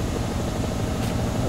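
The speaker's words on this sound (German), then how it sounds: "Ja, Hubschrauber, komm." A helicopter in the VR game Pagan Peak VR gives a steady, fairly loud rotor and engine drone with no talking over it.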